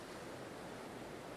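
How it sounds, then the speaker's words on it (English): Soft, steady ocean surf washes along a shore, a faint continuous hiss of breaking waves with no voices, heard from a distance like a calm morning beach. "The waves are really calming to listen to when I wake up."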